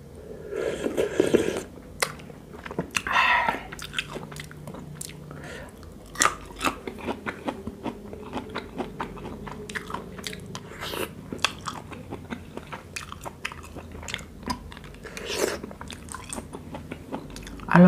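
Close, crisp biting and wet chewing of a spicy Thai cockle salad with salted egg yolk, repeated crunches and mouth sounds at a steady uneven rhythm throughout, with occasional faint utensil clicks.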